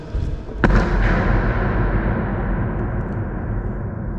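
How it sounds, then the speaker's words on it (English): A single loud foot stamp in an underground WWII RAF bomb and ammunition store at Llanberis, followed by a long, booming echo that rolls on and slowly fades across several seconds. "If I stamp my foot,"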